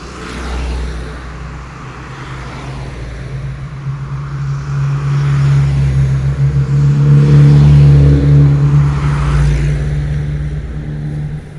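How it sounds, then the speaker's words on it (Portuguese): Cars passing on a short, busy street, Rua Liberal, with a loud, close engine drone that swells and fades as vehicles go by over continuous traffic noise. "Só que aqui passa muito carro."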